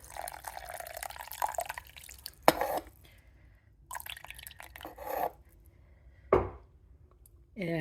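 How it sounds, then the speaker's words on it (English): Tamarind juice poured into a blender holding peanut, chili and garlic powder, with sporadic splashes and clinks of liquid and glass amid quiet kitchen sounds. "Peanuts and chili powder, garlic are blended into powder now. I will add"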